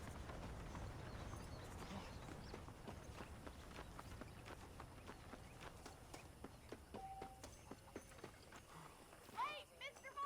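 Horses' hooves clip-clop steadily in Red Dead Redemption, quiet and even, under voices talking and faint ambient game sounds.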